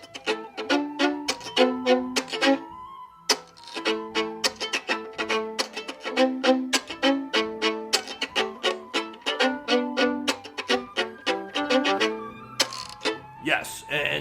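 Violin fiddle played with the chop bowing technique, rhythmic percussive scratchy bow strokes mixed with short pitched notes in a steady bluegrass-style groove.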